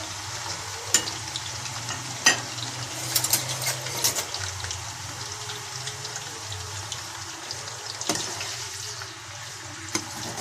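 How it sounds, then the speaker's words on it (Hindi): Pieces of arbi (taro) fry in hot oil, giving a quiet, steady sizzle broken by occasional sharp clinks and scrapes of a utensil against the pan. "अब हम इसमें अरबी को डाल देते हैं और थोड़ा सा हमने अरबी को फ्राई करना है।"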